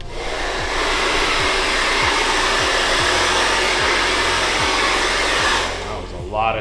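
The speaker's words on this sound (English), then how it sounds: "we're gonna come in with a blow dryer" Blow dryer drying hair after a high skin fade haircut, a loud, steady whooshing roar running close and continuous for several seconds before cutting off near the end.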